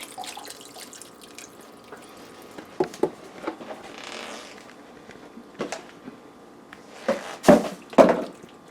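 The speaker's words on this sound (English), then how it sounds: "Let's fill it up to make a nice pot of soup." Broth from a 32-ounce container poured into a pot for a three-mushroom soup with pesto and ramen, a soft, uneven liquid splash broken by scattered clinks and bumps that grow louder near the end.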